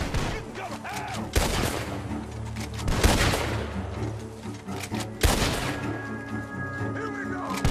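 Loud gunfire in Red Dead Redemption II during a barn shootout: heavy irregular bursts of shots with booming impacts, layered over music and game noise.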